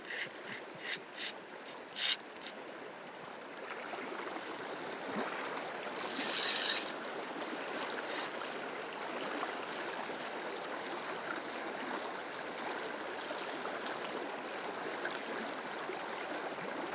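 Fast-flowing river current in Sweden, a steady broadband rush of water throughout, opening with a handful of brief knocks and a louder splash burst midway.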